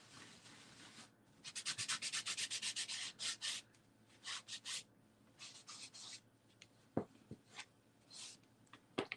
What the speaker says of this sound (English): So that's why just very lightly buffing.